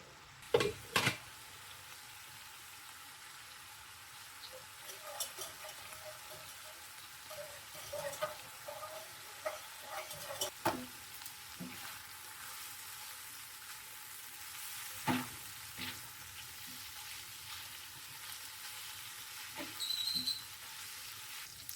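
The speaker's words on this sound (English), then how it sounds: "So you have about 3 tablespoons of butter in here for now. We're just going to melt that down" About three tablespoons of butter melting in a pan for a mac and cheese roux, a steady soft sizzle and crackle with occasional louder pops and spoon clicks, no talking.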